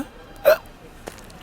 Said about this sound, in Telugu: ఎక్కిళ్ళు వస్తున్నాయిరా